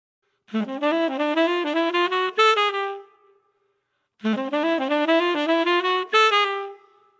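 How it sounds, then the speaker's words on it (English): Two identical quick melodic runs of reedy saxophone notes from a jazz album, each a rapid flurry rising then ending on a held tone, separated by a short silence. "the sax player on the album, played this amazing lick"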